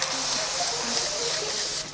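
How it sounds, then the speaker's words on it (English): Setting spray misted onto a face after finishing a makeup look, a steady close hiss running the whole two seconds with no talk over it. "The last thing I'm gonna do is just like spray myself, just to really kind of like set everything together."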